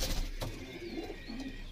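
A slender pigeon in a breeding loft coos softly in low rolling notes nearby, with other birds faintly chirping and a brief rustle at the start.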